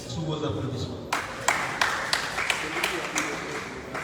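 A press-conference audience in a hall breaks into applause for a parliamentary delegate being introduced, a steady wash of clapping with a few sharper individual claps, moderately loud and sustained.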